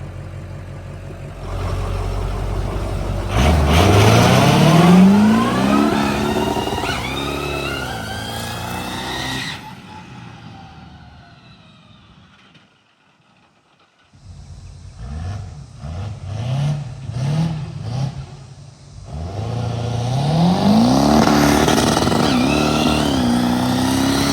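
A mud truck's engine revs hard with its four wheels spinning, rising and falling in loud roaring sweeps, then dropping almost to silence before it climbs back up into sustained revving.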